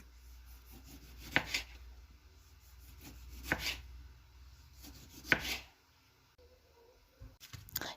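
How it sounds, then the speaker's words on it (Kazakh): A tomato sliced into rounds with a knife on a cutting board, three distinct crisp cuts spaced a couple of seconds apart, each ending in a soft knock on the board, then quiet handling. "Енді қызанақты алып, оны да дөңгелекше етіп, бөліп дайындап қоямыз."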